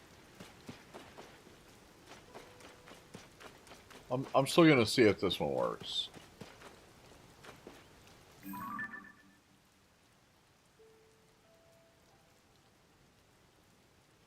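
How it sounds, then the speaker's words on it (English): Steady light rainfall in the video game Zelda Tears of the Kingdom patters softly in the background while a person talks over it, with a brief burst of louder game effects midway. "And now it's raining again."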